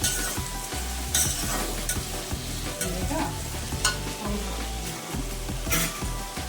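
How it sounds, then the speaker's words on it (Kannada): Medium-sized tomatoes frying in a pan for a vangi bath gojju masala, a steady close sizzle with repeated stirring scrapes and soft clinks, no voices. "ಅದು 2 ನಿಮಿಷ ಟೊಮೆಟೊ ಫ್ರೈ ಮಾಡಿ ಆಮೇಲೆ ಪೌಡರ್ ಹಾಕ್ತೀನಿ."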